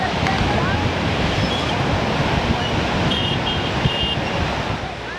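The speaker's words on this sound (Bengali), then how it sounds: "সমুদ্রে ব্যাপক বড় বড় ঢেউ" Big sea waves breaking at Kuakata beach in Bangladesh during a number 1 storm warning signal, a steady loud roar of surf with wind buffeting the microphone throughout.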